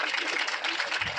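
An audience at a live Bhagwat Katha gathering claps together, a dense continuous wash of applause, close and fairly loud, with a voice faintly underneath.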